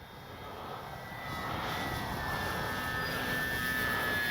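An E-flite Sportix electric RC plane flies at three-quarter throttle, its steady high motor whine swelling slightly louder as it nears, continuous and alone.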